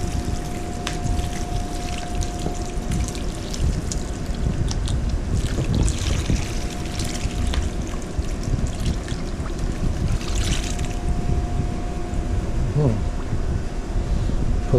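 Seasoning mix with water and small ice cubes is poured into ground deer sausage meat, giving a continuous splashing, trickling wash close by, with faint clinks and knocks throughout and a steady tonal hum underneath.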